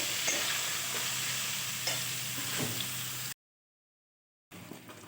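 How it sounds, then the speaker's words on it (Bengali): Pointed gourd frying with turmeric and salt in a pan, a steady close sizzle broken by occasional scraping stirs, cutting to silence for about a second before the sizzle resumes. "সামান্য পরিমাণ হলুদ দিচ্ছি আর লবণটা দিয়ে দিচ্ছি, তাহলে বেশ পটলটা ভালো করে ভাজা হবে ভালোভাবে।"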